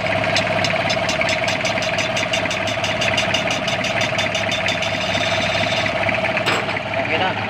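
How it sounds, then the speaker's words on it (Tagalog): Small engine idling steadily during a voltage-type conversion repair, a continuous mechanical drone with a rapid ticking pulse that shifts in character partway through, with a sharp click near the end. "Nagbabago ang tunog ng makina."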